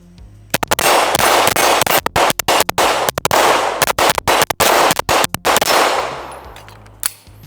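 Girsan Witness 2311 Match X pistol firing Federal rounds from a 17-round load, loud sharp shots in rapid strings of quick follow-ups, close and echoing, with no talking.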